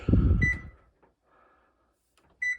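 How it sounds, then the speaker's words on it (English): Two short, bright electronic beeps from a kitchen timer about two seconds apart, following a brief clatter at the start, with near silence between them. "I set a timer"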